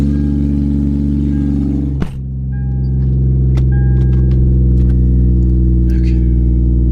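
A Lexus with a 2JZGTE engine runs at a loud, steady, close idle after a sharp clunk, the engine note swelling slightly as it picks up revs, with a few faint clicks on top.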